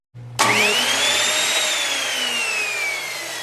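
A power saw cuts through a sheet of AC plywood to make the base piece of an RV TV lift cabinet. It spins up sharply, then holds a loud, steady whine with a slowly falling pitch that lasts to the end.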